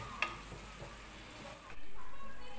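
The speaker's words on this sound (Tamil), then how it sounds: "வச்சுருக்க பாத்திரத்துலேயே தண்ணி ஊற்றி அந்த மசாலாவை கலக்கி ஊற்றுறேன்" Masala mixed with water goes into a hot pan for paneer dum biryani, giving a faint, soft sizzle with light stirring that swells into a steadier hiss near the end.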